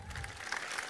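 A concert audience at a folk song contest applauds, a short dense burst of many hands clapping at moderate distance.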